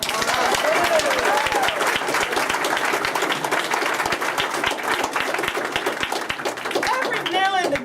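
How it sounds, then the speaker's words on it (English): A crowd claps and applauds continuously and loudly, dense and sustained throughout, with faint voices mixed in. "So give yourselves a huge round of applause."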